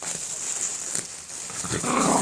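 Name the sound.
dog growling while tearing packaging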